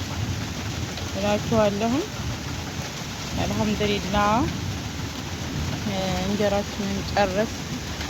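Steady rain falls throughout, a continuous broadband hiss under a voice talking in several stretches.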